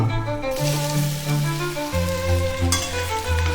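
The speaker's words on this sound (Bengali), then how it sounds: "এখন এর মধ্যে দিয়ে দিচ্ছি ডুমো ডুমো করে কাটা আম" Diced raw mango fries in oil with a continuous bright sizzle over a steady tonal hum in the background.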